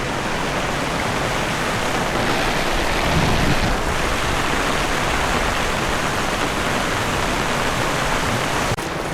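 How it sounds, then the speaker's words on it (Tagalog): Heavy rain pounds a hut roof in a rural vegetable field, a dense, steady hiss that is loud and unbroken throughout, with no voices. "Lakas ng ulan."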